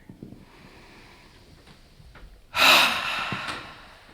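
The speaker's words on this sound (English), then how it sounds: "Let's take a deep breath together." One deep, audible breath drawn in during a group breathing exercise, a loud close breathy rush that swells suddenly and then trails off slowly, with faint murmurs before it.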